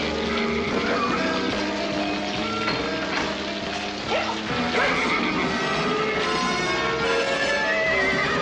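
Horses neigh and whinny during a fire, with hoof clip-clop mixed into a dense, continuous, loud background that runs steadily throughout.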